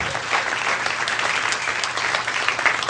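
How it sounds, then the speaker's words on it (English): An audience at a conversational hypnosis seminar keeps up loud, even applause throughout, dense clapping close by with no pauses. "Give a round of applause"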